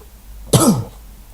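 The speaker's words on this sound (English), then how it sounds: "Sorry for the coughing again." A single loud, sharp cough bursts out close to the microphone, then fades into quiet background hum.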